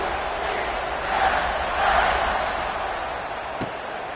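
A stadium crowd in the College Football 26 video game makes a steady roar that swells twice, with a single sharp thump near the end.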